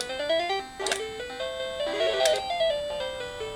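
Fuzzy, lo-fi chiptune melody from a Namco plug-and-play console plays at a low sample rate in stepped electronic tones, with a couple of bright burst effects cutting through.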